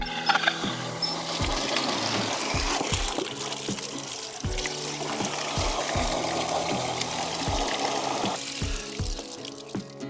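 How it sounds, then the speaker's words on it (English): Water gushes steadily from a hose into a sink P-trap pipe, a constant rushing flow with rhythmic mechanical clicks and thumps underneath. "I'm gonna take the water hose, I'm gonna put it down here, and then I'm gonna turn this water on"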